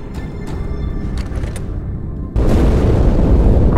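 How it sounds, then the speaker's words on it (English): A heavy explosion booms inside the Athens space station in Halo 2 Anniversary on the Cairo Station level. A quieter rumbling ambience suddenly gives way to a loud, sustained blast roar. "That explosion came from inside the Athens."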